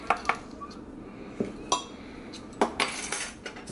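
A metal teaspoon clinks sharply against a container while paprika is measured out for a cast iron spiced herb chicken, with several quick, close, bright taps in an irregular rhythm.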